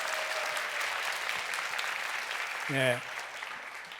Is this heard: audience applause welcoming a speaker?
yes